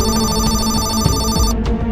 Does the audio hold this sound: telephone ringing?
yes